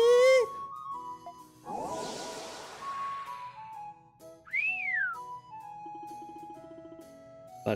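An emergency whistle signal of the order in the video game Ys IX: Monstrum Nox, heard as shrill whistled tones rising and falling over quiet game music, one sweeping clearly about two thirds of the way in.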